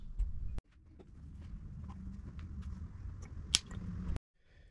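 Engine oil squeezed from a squeeze bottle into the filler of a Yamaha 2.5hp four-stroke outboard, a close, steady squelching glug lasting several seconds, with a few small clicks and a sharp tap near the end.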